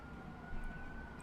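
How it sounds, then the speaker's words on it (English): A distant emergency siren sounds in the railway game Train Simulator 2017 on the North London Line, a faint, steady wailing tone over a low constant rumble of train and ambient noise. "Apparently there's been something siren-worthy around here happening, some kind of emergency"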